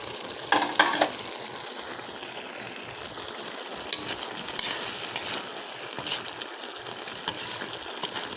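Pork liver sautéing in a hot pan for igado gives a soft, steady sizzle with scattered crackles and a few brief stirring scrapes, fairly quiet and close, with no talking.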